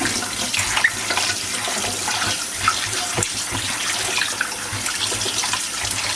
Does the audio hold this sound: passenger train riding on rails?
no